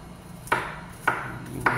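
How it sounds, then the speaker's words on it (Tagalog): A knife chops through bitter gourd (ampalaya) in three crisp, evenly spaced strikes, close and clear with nothing else around them. "hiwa lang po ng ampalaya"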